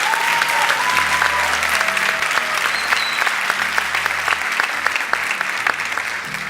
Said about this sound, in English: A round of applause for the Cloud Computing and Services graduates, please.